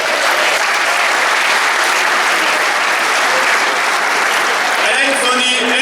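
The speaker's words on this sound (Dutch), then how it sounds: "Applaus daarvoor." An audience at a revue show breaks into loud, dense, continuous clapping that stays even throughout before thinning slightly at the end.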